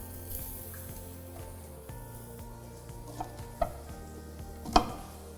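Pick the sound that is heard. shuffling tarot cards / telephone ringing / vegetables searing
vegetables searing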